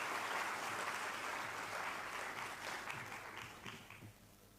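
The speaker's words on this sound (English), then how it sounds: "Let's give her a warm round of applause as she makes her way to the stage" Audience applause at the official opening ceremony of an international association conference in Kenya, a dense steady wash of clapping throughout that gradually thins and fades toward the end, with no voices over it.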